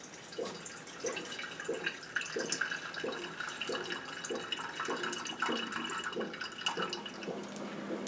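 Bunn coffee brewing station brewing coffee, a soft steady trickle of liquid with rhythmic dripping pulses, faint and close.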